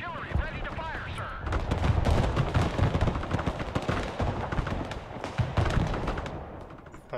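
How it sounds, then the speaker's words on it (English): Artillery in the Broken Arrow video game fires in heavy, rumbling booming volleys with overlapping blasts over several seconds, loud and dense, with a faint voice at the start. "Artillery ready to fire"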